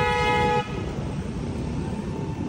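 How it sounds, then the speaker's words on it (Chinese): A car horn blares in a long, loud tone in heavy Manila night traffic amid motorbikes, then cuts off, leaving a steady roar of engines and road noise. "後面的汽車狂按喇叭，"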